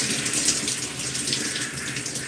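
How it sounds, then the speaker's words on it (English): Hands rinsed under a running tap, a steady close splashing rush of water that stays constant throughout with no talking. "I like to rinse my hands"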